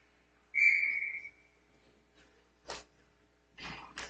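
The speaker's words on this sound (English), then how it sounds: "So a lot of whistles here in the early going." Referee's whistle at a U18 ice hockey game: one clear shrill blast of about three-quarters of a second, fairly close, followed by brief arena clatter and short noises with no talking.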